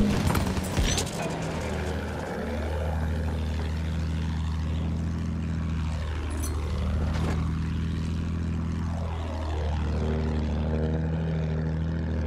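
A propeller airplane drones steadily overhead in the Battlefield 1 video game, its engine pitch sweeping down and up in repeated Doppler passes, loud and continuous amid battlefield ambience.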